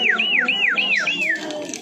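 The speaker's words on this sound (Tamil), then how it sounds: "இந்த இடத்துல 40 ரூபாய்க்கு இந்த கிளி விசில் வித்துட்டு இருக்காங்க." Parrot-shaped toy whistle sold near the Tirumala temple in Tirupati, blown in a quick series of about five rising-and-falling warbling chirps, shrill and close over faint background crowd noise.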